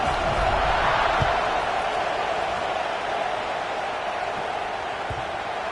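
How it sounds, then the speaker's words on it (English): A football stadium crowd at a Florida State game keeps up a steady, even roar after a score. The broad wash of many voices holds constant, with a few faint thuds underneath. "this crowd is buzzing after that last score"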